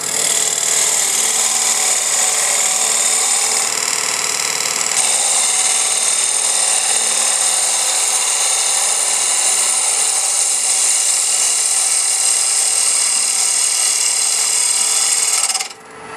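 A wood-turning cut on a lathe shapes a headstock handwheel, giving a loud, steady hissing scrape that runs unbroken for most of the clip before stopping abruptly near the end.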